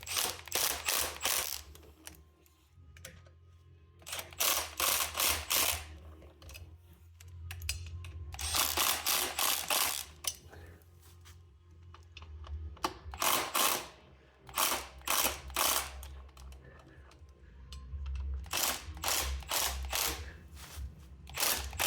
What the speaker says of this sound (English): If you're gonna use a impact, make sure it's on that self-torquing option.